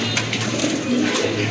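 Pigeons kept for sale, including fancy Danish birds, cooing in soft low repeated calls, close by and steady over a faint background hum.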